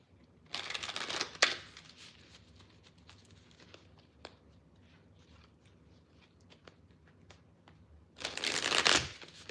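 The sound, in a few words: shuffling a tarot card deck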